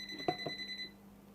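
A TOOLTOP ET32 breaker finder beeps close by, giving two short electronic chirps over a thin steady tone that then fades.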